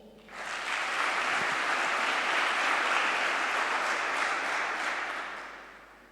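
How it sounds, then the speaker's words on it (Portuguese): Audience applause at an energy-sector conference swells quickly into a dense, steady wash of clapping that holds for several seconds before tapering off, with no voices over it. "Peço uma salva de palmas."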